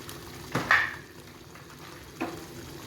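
Onion and tomato fry in oil over high heat for a vegetable kofta curry, a faint, low hiss of sizzling with two brief scraping stirs of a spoon against the pan.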